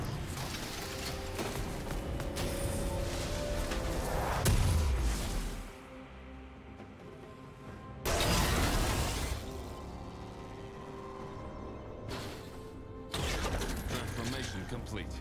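Jayce's weapon transforming in League of Legends, a dense mechanical whirring and clanking with ratchet-like gear sounds, swelling in several loud bursts with quieter stretches between, mixed with game effects.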